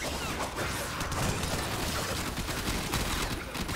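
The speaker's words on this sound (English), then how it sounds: "this is a marksman rifle" Rapid gunfire from a marksman rifle in a sci-fi galaxy war video game, loud dense cracks and bursts filling the whole stretch amid chaotic battle noise.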